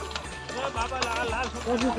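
Horse hooves clopping at a walking pace on the Amarnath Yatra pilgrimage route, a few regular thuds under nearby talking voices.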